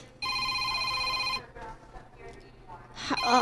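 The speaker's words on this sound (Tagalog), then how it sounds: "si Bong, nanawag." A telephone rings with a loud electronic ringtone for about a second near the start, then fades under quieter background noise, followed by a short burst of nearby voice at the end.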